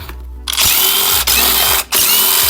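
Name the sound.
power driver with Torx bit loosening engine bolt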